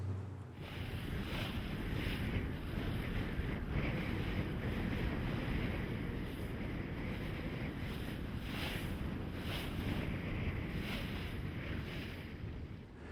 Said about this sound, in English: Today we find ourselves on the sail training ship Lady Nelson.